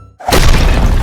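A statue shatters in an animated Hindi horror story, a sudden loud crash bursting out after a brief quiet, followed by a dense, sustained roar of breaking debris.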